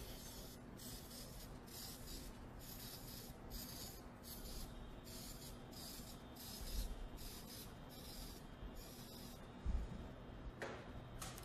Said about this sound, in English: we're going to take our pan spray and spray down our muffin tin.